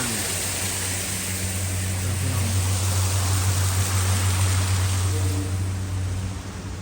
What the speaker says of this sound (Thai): เป็นน้ำตกนะครับ